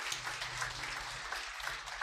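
A church congregation gives a round of applause during a service, steady dense clapping filling the room at moderate level with no talking over it.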